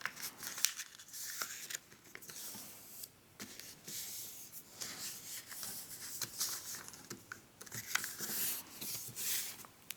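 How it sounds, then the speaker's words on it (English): Paper is creased and folded into an origami face mask, giving soft crinkles, rubs and sharp crisp creasing taps at close range, irregular and fairly quiet. "bottom one we're going to fold up, and then the top one we're going to fold down to this crease here"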